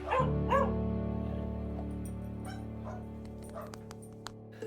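Dogs at an elephant sanctuary in Thailand give a couple of close yips and barks at the start, then whimper faintly over a steady low hum, with scattered soft clicks toward the end.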